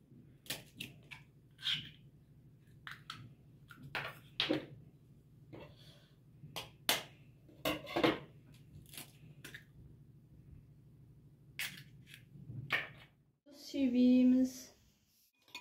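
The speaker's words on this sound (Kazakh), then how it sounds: "Енді 2 жұмыртқамызды жарып аламыз" Two eggs cracked in a kitchen while preparing fried eggplant, heard as a scattering of sharp, close taps and clicks over a quiet hum, ending in a louder, fuller burst.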